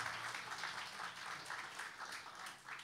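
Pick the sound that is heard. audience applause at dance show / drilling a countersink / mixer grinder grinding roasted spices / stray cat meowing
audience applause at dance show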